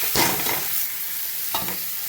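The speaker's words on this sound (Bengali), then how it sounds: "বাঁধাকপিটার সাথে পেঁয়াজটা ভালো করে ভেজে নেব, তারপরে চাউমিনটা দেবো।" Chow mein noodles with cabbage and onion being stir-fried in a pan, a steady close sizzle with two louder scraping stirs near the start and one more toward the end.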